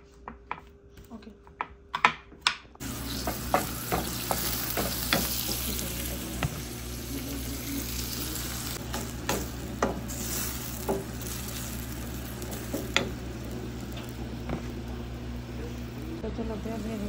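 Tilapia fish frying in a pan make a steady, close crackling sizzle, with scattered sharp pops and clicks of utensils throughout, and a quieter patch of clatter before the frying sound swells in.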